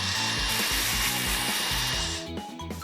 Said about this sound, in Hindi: Construction mixer.